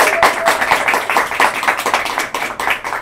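Steady applause from a studio audience welcoming a faculty guest, Dr. Antoinette Ellis-Williams, with dense, continuous clapping close by and no talk.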